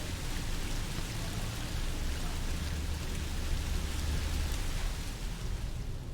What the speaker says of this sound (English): Each drop of rain seems to rust it even more.